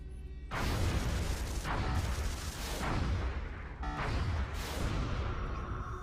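Explosions as a UFO is shot down in the XCOM Long War video game, several heavy rolling booms and crashes in succession, loud broadband blasts that swell, fade and return without speech.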